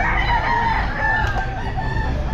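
A stag rooster at a busy pet market, with a continuous clucking and crowing-like din of fowl over a dense crowd murmur, loud and close throughout.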